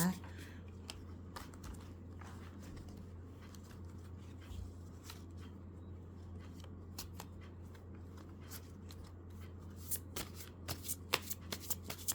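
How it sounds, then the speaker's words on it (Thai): Tarot cards being shuffled at a reading, a quiet, steady run of soft riffling and flicking with sharper crisp snaps toward the end, close and alone. "ขอเป็นตัวแทนตัดไพ่ตัดไพ่ให้คนเกิดมาอาทิตย์นะคะ"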